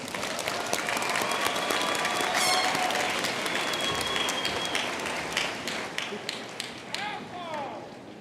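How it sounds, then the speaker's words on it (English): Sustained applause from a large commencement crowd honoring College of Health Sciences graduates, steady dense clapping with a few cheers and shouts rising over it, fading slightly toward the end. "Please join me in applauding the graduates from the College of Health Sciences"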